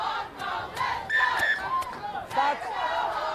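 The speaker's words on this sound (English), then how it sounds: "Huge cheers from the crowd here at Hong Kong Football Club." A crowd cheers and shouts at a women's rugby match at Hong Kong Football Club, Hong Kong against Kazakhstan. The roar is loud and sustained, with voices rising and falling and a commentator talking over it.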